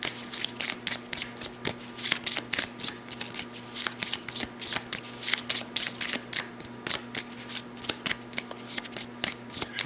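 A deck of board game command cards being shuffled by hand, rapid repeated riffling and slapping bursts in a fast steady rhythm, close and crisp with no talking.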